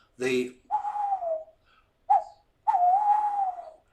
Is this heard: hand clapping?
no